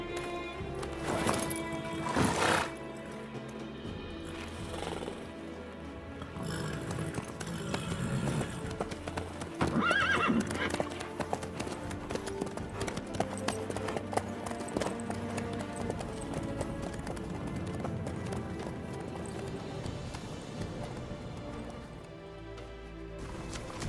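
A horse in The Witcher 3 game gallops with a steady rapid clip-clop of hooves and a brief neigh, over a constant game soundscape.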